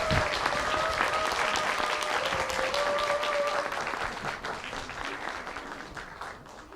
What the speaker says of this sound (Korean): 함께해 주신 두 분께 박수 부탁드립니다.